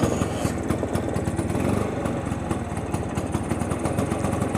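A restored Piaggio Vespa 150 scooter with a freshly rebuilt engine idles close by, its single-cylinder putter a steady, rapid pulsing that holds evenly throughout with no voices over it.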